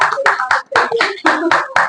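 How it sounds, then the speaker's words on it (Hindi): An audience claps in welcome at a ceremony honouring the founder of Baikunth Dham, loud, close bursts of hand claps in a steady rhythm of roughly four-beat pulses. "तालियों के साथ में स्वागत आपका जोरदार।"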